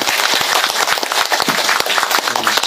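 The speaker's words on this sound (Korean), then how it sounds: "박수로 맞아주시죠" An audience at a Korean political forum on public safety applauds to welcome a speaker, with dense, steady clapping throughout, loud and close, with no talking over it.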